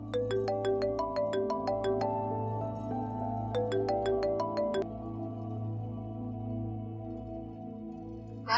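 A phone ringtone plays a bright, repeating electronic melody indoors, loud and close, for about five seconds before settling into a steady lower hum with no talking over it.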